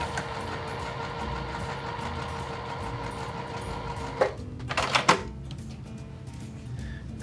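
A sewing machine stitches quilt strip pieces together for a beginner jelly roll pattern, running as a steady continuous whir for several seconds before a few short clicks and stops near the end.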